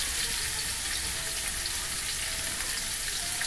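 Tomatoes sautéing in a pan for a sardine and odong dish, with a loud, continuous, close-up sizzle and hiss of frying throughout and no voices.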